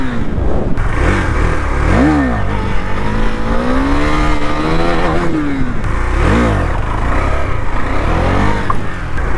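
A KTM Duke 390 revs hard during wheelie practice outdoors, loud and close, the engine pitch rising and falling in repeated surges with steady throttle drone between them.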